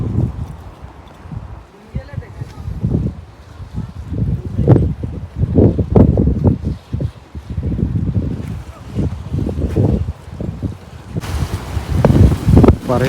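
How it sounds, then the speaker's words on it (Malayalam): Strong wind gusts at St. Angelo Fort in Kannur and buffets the microphone in rough, uneven rumbles. A person keeps talking throughout. "പറയുന്ന സൗണ്ട് എത്രത്തോളം ക്ലിയർ ആവുമെന്ന് അറിയത്തില്ല, ഭയങ്കര കാറ്റടിക്കുന്നത്"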